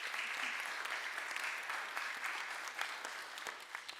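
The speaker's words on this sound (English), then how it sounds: "so if we can give them a round of applause" Congregation applause at a church Sunday forum, thanking the trip chaperones: steady broadband clapping from a roomful of people, fairly close and sustained throughout.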